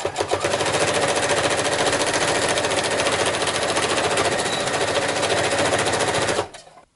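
A sewing machine zigzag stitching the pinned shoulder seams of a costume vest, a fast continuous mechanical rattle running loud and steady for several seconds before stopping abruptly.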